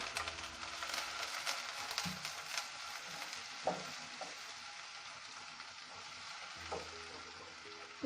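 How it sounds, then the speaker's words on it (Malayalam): Two sliced onions frying in coconut oil, a soft continuous sizzle close by with occasional stir clatters and light pops, fairly quiet and steady without talk. "ഇനി നമുക്ക് ഈ വെളിച്ചെണ്ണയിലേക്ക് തന്നെ അരിഞ്ഞു വെച്ച സബോള ഇട്ട് കൊടുക്കാം"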